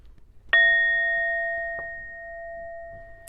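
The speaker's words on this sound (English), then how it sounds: "I'm going to ding the bell again." A single bell struck once, ringing out with a bright sustained tone that slowly decays, followed by a softer second tap; no talking.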